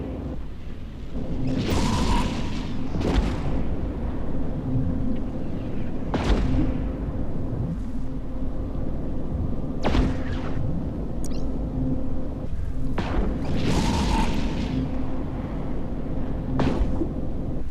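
Vexor Navy cruiser blowing up in space combat in EVE Echoes: deep rumbling blasts recur every few seconds over a steady droning hum, loud and heavy with no talking.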